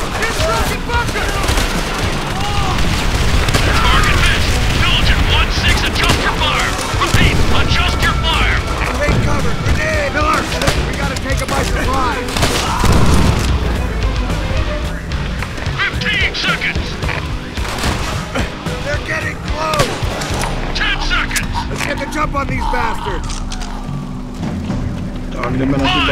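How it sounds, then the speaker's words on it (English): Loud, relentless machine gun bursts and heavy booming artillery from the war game Call of Duty: World at War fill the scene, with shouted soldier voices mixed into the battle. "Machine gun!"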